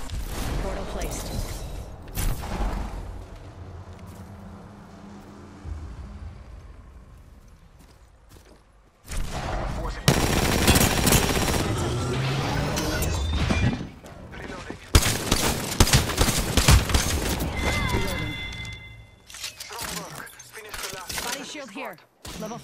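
Rapid bursts of gunfire crackle through an Apex Legends firefight, loud and dense in several stretches with short pauses between volleys, mixed with other game effects.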